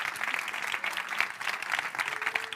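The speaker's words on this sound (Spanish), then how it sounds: "ahora, por favor, un aplauso para Danny Boyle" Audience applause at a public talk with film director Danny Boyle and actors at a film academy in Spain, a steady dense clapping from a sizeable crowd filling the room throughout.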